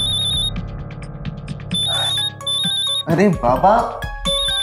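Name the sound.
mobile phone ringing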